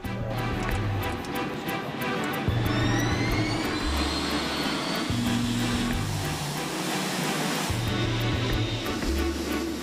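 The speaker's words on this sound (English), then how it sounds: "The 747-8 Intercontinental, the newest and largest version of the company's iconic jumbo jet, is taking off for the first time." Boeing 747-8 Intercontinental jumbo jet on its first takeoff, a loud continuous jet engine roar filling the whole stretch with a broad rushing hiss and a slowly shifting whine, heard alone with no voices.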